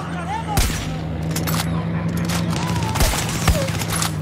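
Gunshots crack in Far Cry 6, a few sharp loud bursts spaced over a few seconds against a droning backdrop with a faint distant voice.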